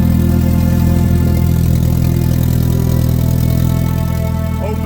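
A 2001 Jetta idles with an open downpipe, giving a loud, close, continuous rumble with a heavy low drone and steady raspy exhaust texture and no talk over it.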